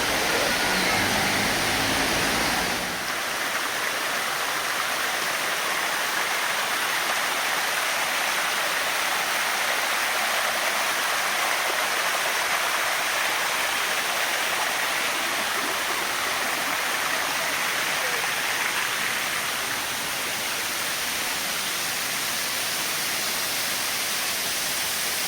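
Erawan Falls roars in a steady, dense rush of falling water that continues unbroken and fairly loud throughout.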